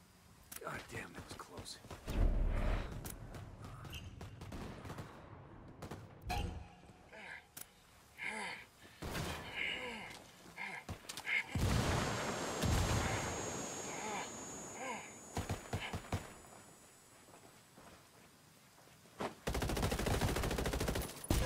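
Heavy gunfire in the tactical shooter Ghost Recon Ghost War, played as online PvP on Xbox One: repeated bursts of automatic fire and shots, some loud and close, others more distant, mixed with game voice lines and talk.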